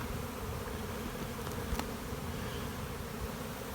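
Dense, continuous buzzing of honey bees packed into a hive of two full deeps, close and steady with no voices.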